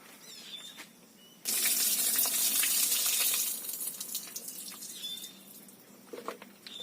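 A kitchen tap suddenly gushes water in a loud, steady stream that lightens partway through, with small clinks around it.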